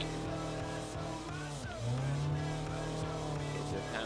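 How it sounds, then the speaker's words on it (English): A car sliding in a handbrake drift, steady engine drone with a rising tire squeal swelling in the middle, heard up close from inside the car. "Hit the handbrake. And there we go. There you go, a bit of a slide there."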